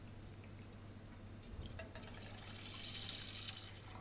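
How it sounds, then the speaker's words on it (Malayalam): Half a litre of milk poured into a cooking pan for coffee pudding, heard close and quiet as a soft liquid trickle that swells into a brief hissing stream and then tapers off. "ഈ പാനിലേക്ക് അര ലിറ്റർ പാൽ ഒഴിച്ച് കൊടുക്കാം"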